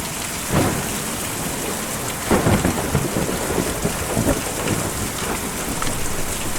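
Rain and thunder in the video game Kentucky Route Zero: steady, dense rainfall hissing throughout, with low rolling thunder swelling in a few heavier bursts.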